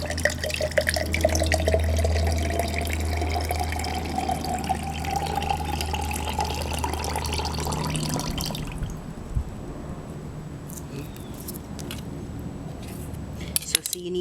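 Coconut water trickles and drips out through holes punched in a coconut, a steady close liquid stream for several seconds that then thins to sparse drips and small knocks.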